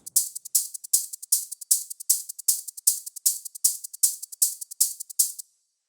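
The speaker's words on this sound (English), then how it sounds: "Next we have hi-hats that sounds like this." Crisp drum-synth hi-hat pattern with three layered hits repeating in a steady, fast rhythm for hyperpop-flavored techno, bright and close, playing alone before stopping abruptly.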